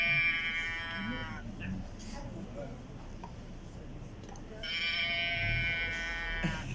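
A toy sound block gives out a cow moo, a drawn-out nasal bleating tone played twice with a quiet pause between, fairly close and unaccompanied by talk.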